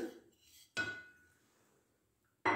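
Flour, salt and sugar being mixed in a bowl, heard as two distinct clinking strikes against the bowl with a soft scraping in between, close and otherwise quiet.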